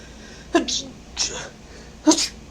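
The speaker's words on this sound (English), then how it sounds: "Oh shit! I sneezed." A few sharp sneezes burst out close by, each a quick forceful exhale, separated by short pauses.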